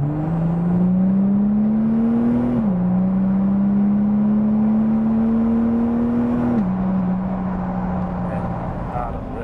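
An Audi A5 3.0 TDI on a test drive: the diesel engine's droning tone climbs steadily, drops sharply at two gear changes, then climbs again, close and loud inside the cabin.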